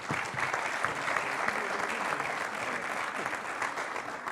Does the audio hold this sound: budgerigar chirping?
no